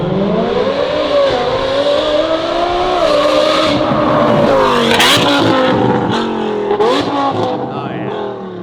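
A loud Lamborghini Huracan with an F1 exhaust revs hard and continuously, its exhaust note rising and falling in pitch with sharp throttle blips, close by.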